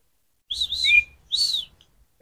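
A bird whistles close by in two short, bright phrases, each a rising-and-falling chirpy whistle, followed by silence.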